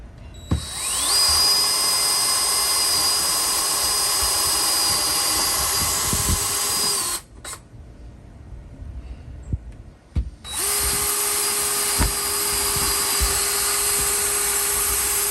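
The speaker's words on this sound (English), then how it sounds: "all the holes are drilled" A power drill boring holes into a 2004 Chevrolet Avalanche truck for mounting screws: two long sustained high whining runs, loud and near, separated by a short pause with clicks and handling sounds.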